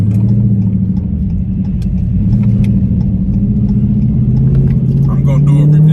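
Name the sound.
Hellcat car engine rumbling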